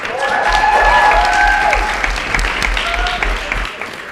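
Applause fills a hall at the ESN Switzerland national assembly in Lausanne, a steady crowd clapping with cheering and whistles rising over it early on before the sound gradually thins.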